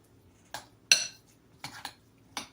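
A utensil scrapes and clinks against a bowl while hummus with garlic is mixed, five short sharp taps spaced irregularly over near silence.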